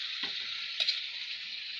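Soy sauce sizzling as it hits frying chicken adobo, a steady faint hiss with a couple of small ticks and stirring scrapes.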